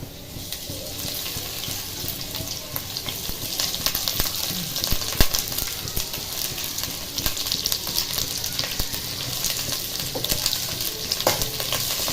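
Vegetables and chillies fry in hot oil for a homemade pasta dish, giving a steady, dense sizzle with scraping stirs and light clatter throughout, close and fairly loud with no talking.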